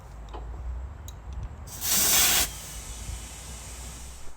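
Compressed air rushes into a tire on a KMC KM237 crawl beadlock wheel in one loud, close hiss lasting under a second, over a steady low rumble of background noise.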